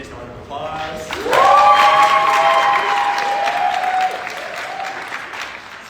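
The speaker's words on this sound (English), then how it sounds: "give all of our lovely candidates a round of applause" A large student-election audience at a university executive speakout breaks into sustained applause for the candidates, rising quickly and holding loud before tapering, with a voice carrying over the clapping.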